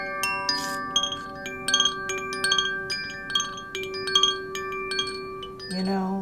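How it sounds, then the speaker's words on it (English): A baby's musical mobile plays a soft, tinkling melody of bright chime-like notes in a steady lilting rhythm, with a low sustained tone beneath. It is quiet and alone, with no voices. "the musical mobile"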